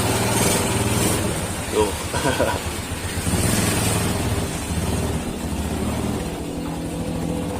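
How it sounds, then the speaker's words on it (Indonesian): A bored-up Yamaha Jupiter Z motorcycle engine is revved in short bursts, a steady buzzing engine drone with rises in pitch while a voice briefly speaks over it. "Jadi langsung saja kita suruh pemiliknya buat tes motornya."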